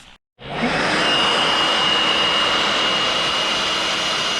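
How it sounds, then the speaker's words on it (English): A Milwaukee cordless leaf blower roars up after a brief silence and runs loud and steady, a constant rushing whoosh close by. "we're gonna get ready to start hitting the leaf blower to it"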